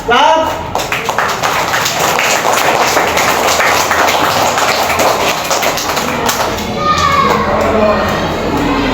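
A classroom of children clapping together, an irregular patter of many small hands close by, mixed with children's voices and chatter as the clapping tapers off and a teacher speaks.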